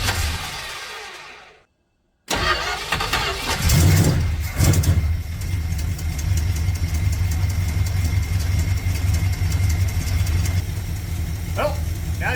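A 1967 Dodge Dart engine with a freshly tuned carburetor cranks and fires after a brief silence, then settles into a loud, steady, slightly rough idle close by, with no talk.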